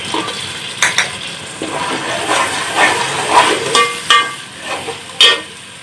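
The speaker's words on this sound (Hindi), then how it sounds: "अब इस मसाले को भूनेंगे हम" A spoon scrapes and stirs a turmeric and chilli spice masala frying in a pan for fish salan, with soft sizzling and sharp metallic clinks against the pan at irregular intervals.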